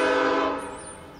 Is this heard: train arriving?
yes